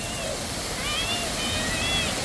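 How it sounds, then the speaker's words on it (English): A waterfall beside a casino in Shreveport, Louisiana, gives off a steady rushing roar, with faint voices and chirps over the water noise. "I just want to get this waterfall."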